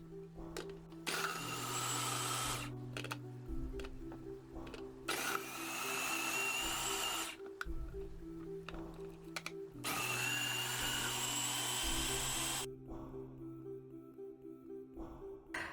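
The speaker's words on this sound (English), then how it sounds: "I just blitzed that in a chopper thing" Several loud bursts of a motorized food chopper whirring and grinding in pulses as it blitzes tomatoes and chilies, with brief pauses between them and a low hum underneath.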